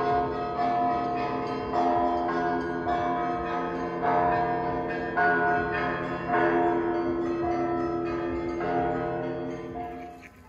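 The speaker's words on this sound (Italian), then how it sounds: "come potete sentire dai rintocchi delle campane" Church bells ring out in Yaroslavl, Russia, in repeated, resonant strokes, layered and moderately distant, fading toward the end with no talking.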